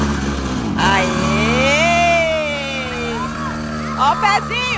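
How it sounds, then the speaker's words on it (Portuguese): A small motorcycle engine runs with a steady hum, then revs up in a rising and falling sweep, close by, with voices talking over it near the end. "Vai ligar a motinha dela."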